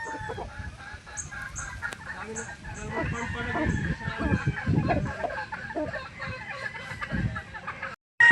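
Gamefowl roosters at a farm cluck and crow repeatedly under a steady barnyard murmur, with a voice talking over them throughout.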